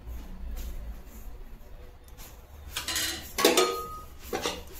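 Besan flour roasting in ghee in a pan, with a low background hiss and a few scraping, clattering strokes of a spoon against the pan toward the end, close up and without speech.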